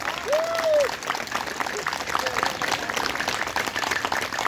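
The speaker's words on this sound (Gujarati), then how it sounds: "જોરદાર તાળીઓથી વધાવો" Loud applause from a crowd at a weight-loss yoga and aerobics session fills the whole stretch as steady, dense clapping, with a voice speaking over it.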